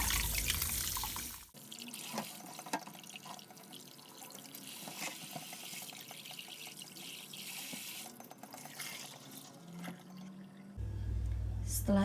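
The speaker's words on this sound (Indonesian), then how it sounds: "Cukup dicuci dengan air mengalir dengan bersih, lalu ditaruh di wadah kering." Fruit being washed under running tap water in a sink, with a steady stream splashing and dripping close by and the flow cutting in and out.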